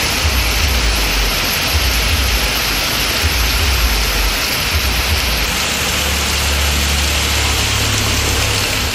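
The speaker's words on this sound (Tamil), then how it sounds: "இரவில் தொடர்ந்து பெய்து வரும் கனமழையால் பொதுமக்கள் குளிர்ச்சியான சூழலை அனுபவித்தனர்" Heavy nighttime rain falling steadily in Manamadurai, a dense, loud, continuous hiss with a low rumbling undertone, unbroken throughout with no voices.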